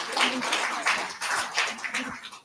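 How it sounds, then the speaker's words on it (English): Applause from a seminar audience on early childhood learning as a women and child welfare official walks onto the stage, a dense, steady wash of many hands clapping at moderate distance with no talking over it. "A round of applause for her."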